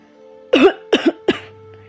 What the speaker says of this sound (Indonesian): batuk terdengar di dalam ruangan